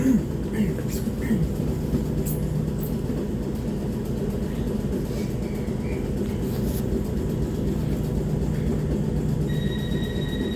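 Commuter train running from Norbiton toward London Waterloo, a steady rumbling hum of the carriage in motion with faint rattles, heard from inside the train, ending with a brief electronic tone.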